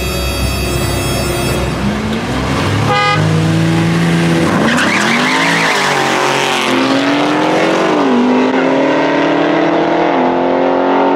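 A BMW G80 M3 and a Camaro race side by side, engines roaring close and loud as they shift gears and brake hard, with tires squealing and skidding over the engine noise.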